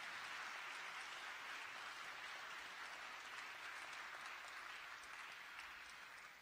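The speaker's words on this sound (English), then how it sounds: "give them another round of applause," Faint, distant applause from a community forum crowd for a panel, a uniform hiss of many hands clapping that stays steady before easing slightly at the close.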